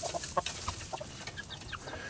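Liege cross and Aseel/Shamo chickens cluck near a pen, giving a scatter of short, quick clucks at close range over soft background noise.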